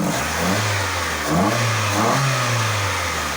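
A Hyundai with an aftermarket intake revs steadily and loudly, its pitch dipping and climbing again a couple of times in a continuous throaty drone.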